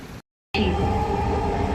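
Steady low rumble and whine of a Dhaka metro train running, continuous and fairly loud after a brief moment of silence at the start.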